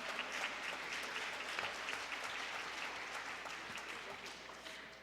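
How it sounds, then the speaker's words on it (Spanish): A seminar audience at Seminario Sipral 2022 gives a strong, sustained round of applause for the panel speakers, dense overlapping clapping heard steadily throughout at moderate distance. "Vamos a iniciar, compañeras y compañeros, con un fuerte aplauso para nuestros compañeros ponentes."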